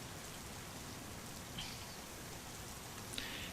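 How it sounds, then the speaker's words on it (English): Steady rain from a flight simulator's weather settings, a soft continuous hiss of drops on a surface, fairly faint and unbroken, with a couple of tiny clicks and no voices. "but we do have rain."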